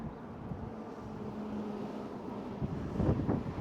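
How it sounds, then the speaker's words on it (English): Steady wind noise rushes over a bike rider's microphone while riding at speed in snowy conditions, a continuous loud roar with a few brief gusty bumps near the end. "I'm really feeling that wind on my face."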